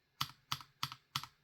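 Four evenly spaced keystrokes on JWK yellow linear switches, stock and lubed-and-filmed, each a crisp close clack with a brief thocky decay, recorded alone in a quiet room.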